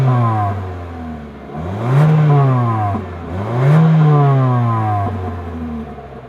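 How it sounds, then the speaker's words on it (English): A 2026 Mitsubishi Eclipse Cross with a single exhaust idles steadily, then is revved twice in quick succession, each rise swelling in pitch and volume before dropping back to a low idle, heard up close with no talk. "As always, here is that exhaust clip."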